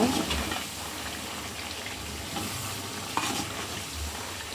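Fish pickle is stirred in a pan after vinegar is added, giving a continuous sizzling, bubbling hiss with occasional scraping strokes close by.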